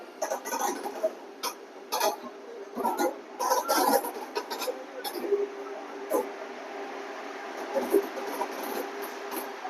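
A saffron Vande Bharat train pulls away near Bangalore railway station, a rumbling, clattering run of wheels with scattered bursts and knocks, heard alongside mixed crowd noise and occasional voices.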